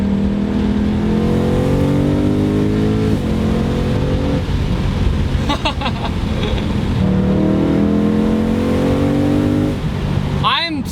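A BMW E92 M3 with its V8 engine revs loudly through rising and falling sweeps, the pitch climbing with each gear before dropping on shifts, close and continuous under faint voice traces.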